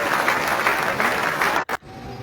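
Dense audience applause at a gathering in Bhilai: sustained, even clapping from a large crowd that cuts off abruptly near the end.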